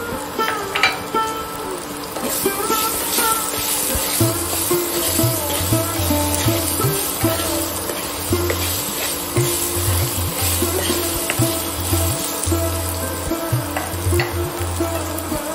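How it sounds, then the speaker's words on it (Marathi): Raw mango pieces with fenugreek and mustard seeds cook in a pan as jaggery goes in: a steady close sizzle with scraping stirs and soft clinks running throughout, no voices. "यातच मी आता गूळ जो घेतलेला आहे तो घालणार आहे।"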